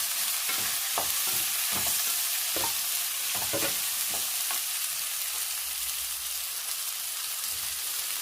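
Chopped tomatoes go into a hot pan for sambar, sizzling steadily while a spoon stirs and scrapes in a series of short knocks early on, then the frying hiss continues alone.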